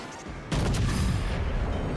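Warship guns firing in World of Warships Legends: a sudden heavy boom bursts in after quiet, followed by a sustained loud rumbling roar of shelling.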